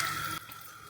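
Water poured into a pan of mushroom and baby corn curry gravy, a brief close splashing pour that cuts off abruptly partway, no voices.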